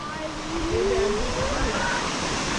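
Steady rushing water from a small waterfall at Red Springs, Costa Rica, close and continuous, with a voice talking faintly over the splashing.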